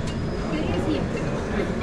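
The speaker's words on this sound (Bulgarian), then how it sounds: "Метро." A Rome metro subway train rumbles steadily, a continuous broad roar of rolling wheels and motor heard from close by, with a voice speaking briefly over it.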